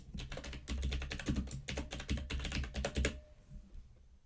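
Steady typing on a computer keyboard to enter a new folder name, a rapid run of close, crisp key clicks for about three seconds before stopping, with no talking.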